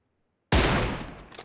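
Gunfire from an M762 rifle in PUBG Mobile on the Livik map, an abrupt loud burst after silence that decays over a second, with a quieter follow-up shot.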